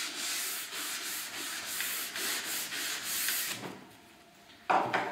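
Directional brush strokes run down a ski base during a detailed tuning job, a steady dry scrubbing rasp repeated in quick passes, close and fairly loud, then a short pause and a final brief stroke.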